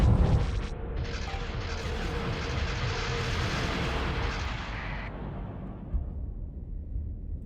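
Missiles and bombers explode in a Starsector space battle, a continuous rumbling barrage of booms and blasts that swells loud and dense before fading toward the end.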